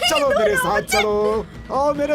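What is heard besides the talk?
None of the usual background noises is heard.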